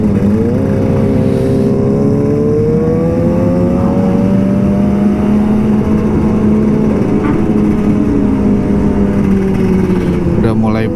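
Kawasaki Ninja RR 150 motorcycle engine, an older two-stroke model, running on a Jakarta street with a steady, loud drone and gently rising and falling pitch as it is throttled lightly, close and continuous throughout.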